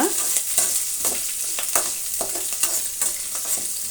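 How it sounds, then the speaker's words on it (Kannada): Amaranth stem greens and green chillies frying in a pan, a constant loud sizzle with rhythmic stirring scrapes and clicks repeating close by. "ಈಗ ಇದನ್ನು ನಾವು ಫ್ರೈ ಮಾಡೋಣ"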